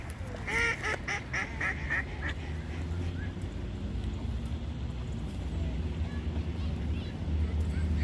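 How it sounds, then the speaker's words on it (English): Several ducks quack in a quick cluster near the start, then a continuous low engine-like rumble and background noise carry on outdoors, with faint voices in the mix. "Can you count how many ducks are there?"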